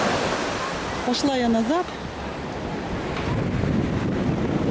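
Ocean waves at Orient Beach on Saint Martin wash in a steady, noisy roar mixed with wind buffeting the microphone, while someone speaks briefly over them.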